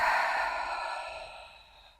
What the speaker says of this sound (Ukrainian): вдих, видих. Ще раз вдих. Видих.